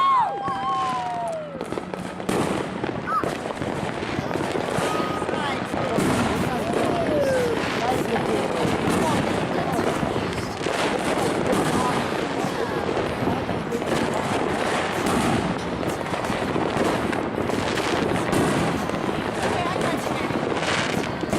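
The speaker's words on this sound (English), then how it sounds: "More fireworks." New Year's Eve fireworks exploding in a long, dense barrage of rapid crackling bangs and pops, loud and continuous, with voices talking and shouting over the blasts.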